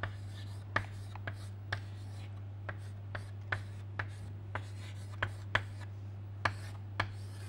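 Chalk or pen writing equations during a gas dynamics lecture, a steady series of short, crisp taps and strokes roughly every half second, close over a constant low electrical hum with no talking.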